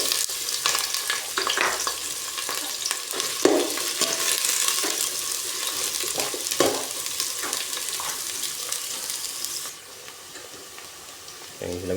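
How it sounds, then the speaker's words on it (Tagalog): Ginger and onion sauté in oil in a pan for fish soup, a continuous loud sizzle with scraping stirs, easing to a quieter frying hiss near the end; a voice speaks faintly at times. "igisa ko muna para mabango guys"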